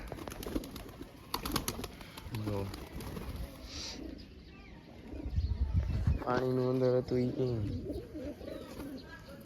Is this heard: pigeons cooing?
yes